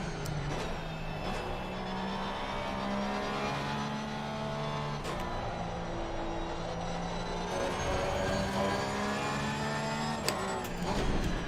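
A race car engine revs on and off the throttle in a racing video game at Spa, its droning whine rising and falling through gear changes, steady and continuous with no talk.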